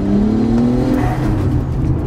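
Nissan GT-R engine revving close by, a loud, rising mechanical roar that surges and holds over about two seconds with no talk.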